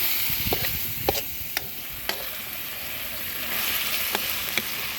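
Bird meat being stir-fried with seasonings and vegetables, a steady close sizzle broken by several sharp clicks of a utensil against the pan, with no talk.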